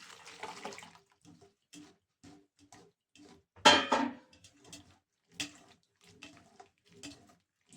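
Red and black currants being washed in water, with small splashes and clinks of a bowl or pot in a kitchen sink in a series of short bursts, one louder slosh near the middle.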